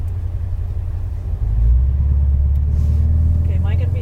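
Chevrolet Corvette Z06 engine on a racetrack, a deep low rumble that swells louder as light throttle is applied, steady and close from inside the car with a voice talking over it.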